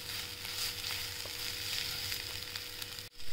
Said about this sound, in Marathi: खूप छान तेलात परतून घेऊ।